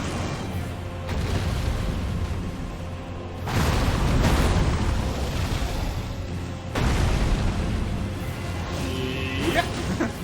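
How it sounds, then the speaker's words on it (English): A large Ghost Flame explosion in Elden Ring: Shadow of the Erdtree, heavy booming bursts with rumbling low end, swelling in waves over several seconds and loud throughout. "Big explosion of Ghost Flame"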